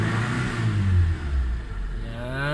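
A car engine revs up and down in a steady, close, loud drone while its RPM gauge is checked after a repair, with rising and falling pitch sweeps and no talk.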